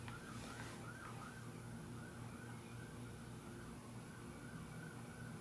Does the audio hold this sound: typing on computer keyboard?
no